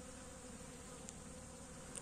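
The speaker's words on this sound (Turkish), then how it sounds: "İşte gördüğünüz gibi. Arılar bu şekilde." Bees at a hive in Gezlevi in early January, a faint, steady buzzing hum at a distance with no talk over it.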